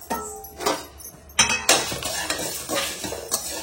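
Coriander seeds, dried red chillies and cinnamon dry-roasting in a pan, with clinking utensil scrapes and knocks against metal in irregular bursts over a faint low sizzle.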